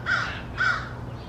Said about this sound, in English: We have crows here.